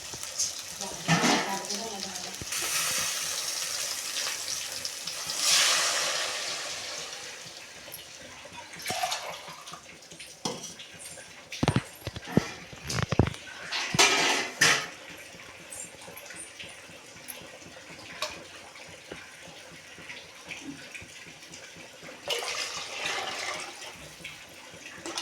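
Water is poured in bursts into a pot for cooking rice, splashing and sloshing at close range with pauses between pours.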